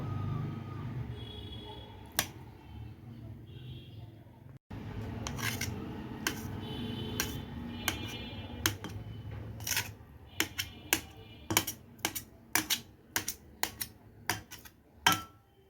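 A knife chops boiled eggs into small pieces on a cutting board for egg manchurian, starting with a few scattered cuts and building to a quick run of sharp, close taps.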